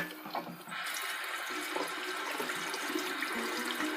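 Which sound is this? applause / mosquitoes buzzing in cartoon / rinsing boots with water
rinsing boots with water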